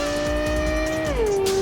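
A car in the Cyberpunk 2077 video game drives off-road over rough wasteland terrain, its steady engine drone loud and close, with the pitch dipping partway through as the tires rumble underneath.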